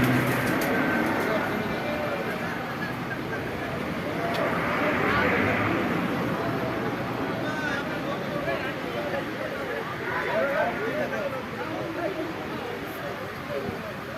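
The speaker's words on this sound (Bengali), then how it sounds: "এখানে কিছু কবুতর আছে" Racing pigeons being released for a 35-kilometre road race, with soft, steady cooing and flock noise running throughout under a continuous background of people chattering.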